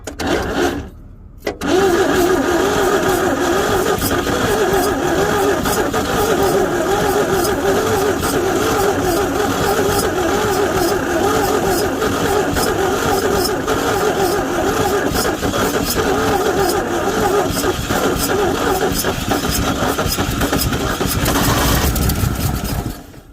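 An engine on an abandoned junkyard 1961 Chevy Biscayne with carburetor trouble cranks loudly and close up in one long, unbroken rhythmic churn lasting about twenty seconds, never catching, after a brief pause at the start.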